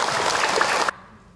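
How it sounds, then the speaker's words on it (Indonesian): An audience at a religious talk applauds the speaker with a dense burst of clapping that cuts off abruptly after about a second, leaving near silence. "Tepuk tangan buat beliau."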